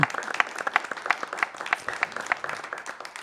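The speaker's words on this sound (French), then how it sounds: "on va vous applaudir, Madame le maire et vous deux, pour l'animation du village" Applause from a village audience honoring the mayor and two others at a local gathering in Rouze, a close, steady patter of individual claps lasting a few seconds with no talk over it.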